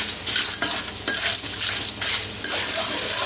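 Surf clams stir-fried with basil leaves in a pan give rhythmic scraping strokes of a spatula against metal over a constant loud sizzle. The stirring comes in repeated bursts close up, with no talking.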